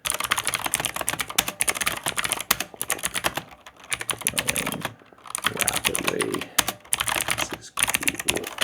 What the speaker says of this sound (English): So if I want to add, text, I just type sport